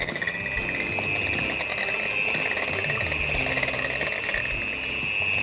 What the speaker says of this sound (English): I'm just gonna whisk them up,